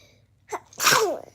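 A single loud sneeze up close, a short breathy intake followed by the explosive burst, then quiet.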